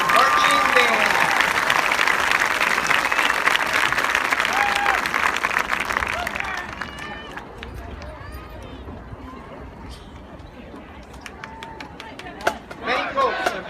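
A large audience applauds loudly for a visiting college marching band at a county band festival, the clapping dense and steady at first, then thinning into scattered claps and crowd noise under a voice.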